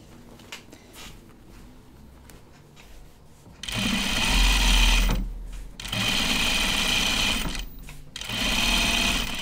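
A sewing machine stitching a jacket, with quiet handling at first, then loud rapid whirring bursts of stitching that pause twice and restart, close up and without talk.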